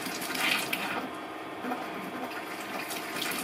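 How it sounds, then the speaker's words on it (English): Water rushes steadily from an RV faucet during winterizing, a continuous broadband hiss with slight surges, fairly close and uninterrupted for the whole stretch. "So it's pushing water through the whole system right now."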